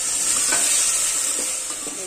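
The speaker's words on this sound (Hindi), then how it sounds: "अच्छे से हम भूनेंगे लहसुन अदरक और हरी मिर्च को। अब इसमें डाल देंगे बारीक कटे" Potatoes frying in oil with garlic, ginger and green chili, a loud, close, steady hissing sizzle with faint stirring scrapes underneath.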